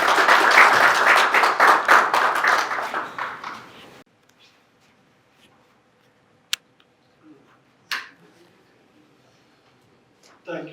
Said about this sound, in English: giving claps.